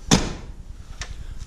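A pickup truck door on a farm in Iowa, recently realigned so it closes properly, shuts with a single sharp slam, followed by faint clicks and light rattles.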